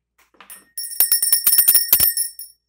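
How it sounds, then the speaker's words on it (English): A small hand bell is rung repeatedly in a rapid, jangling burst of bright, metallic strikes, loud and close, with no talking over it. "I was told to ring the bell to wake you up."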